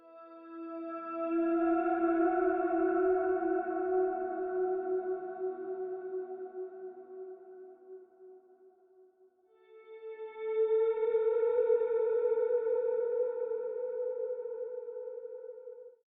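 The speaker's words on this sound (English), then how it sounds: "Next we have the slide guitar" Two long, smooth gliding notes on a slide guitar, each swelling and fading with echoing delay and a wash of reverb.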